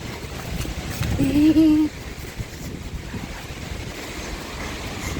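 Steady roar of rushing water from a waterfall, heard near the top of the hill it flows from, with wind buffeting the microphone and a brief voice exclaiming partway through.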